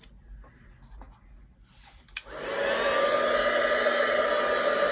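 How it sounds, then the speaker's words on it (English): After a few light paper and handling scrapes, a heat tool for melting embossing powder clicks on and roars into a loud, steady blowing whir that holds to the end. "So now I'm going to use the heat tool, so it's going to get a little bit loud."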